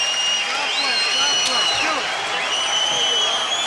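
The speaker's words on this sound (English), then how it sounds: "A round of applause for these 2 champions." A boxing crowd at a championship fight applauds the two fighters, a steady dense wash of clapping and cheering that fills the arena throughout.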